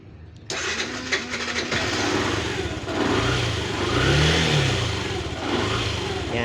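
A 2018–2025 Yamaha YTX 125cc motorcycle engine cranks briefly, catches and starts. It settles into a steady idle and rises in a couple of short revs, close by and loud.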